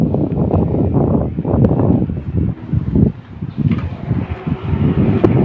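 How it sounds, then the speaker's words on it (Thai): Strong wind buffets the microphone under a bridge, a loud continuous rumble with gusty surges throughout. "อาจจะมีเสียงลมนะครับผมต้องขอโทษด้วยนะครับผม"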